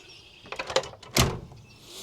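A motorhome screen door swings and latches shut, a few light rattles and then one sharp clack, close by and with no talking.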